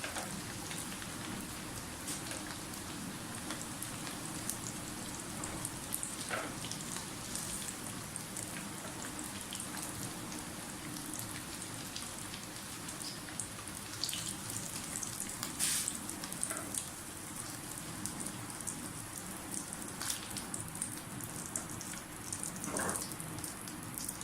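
Potatoes for a Kashmiri dum aloo frying in a pan, giving a steady soft crackle and sizzle with scattered pops throughout, quiet and continuous with no talk.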